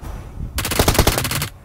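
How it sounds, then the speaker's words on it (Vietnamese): Rapid burst of automatic gunfire in a shooter video game, a tight string of about a dozen loud close shots fired in quick succession over roughly a second, with no talk over it. "Bên kia có tiếng súng kìa."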